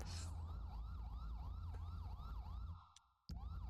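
A tow truck's wailing siren in the police-mod game GTA V LSPDFR cycles in rapid, regular sweeps over a low engine rumble, cutting out briefly near the end before a sharp burst as it resumes.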